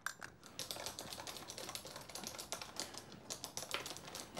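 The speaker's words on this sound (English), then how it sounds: "can you stop typing for a minute?" Rapid, steady keystrokes on a keyboard clatter continuously for several seconds, close and fairly quiet with no voices over them.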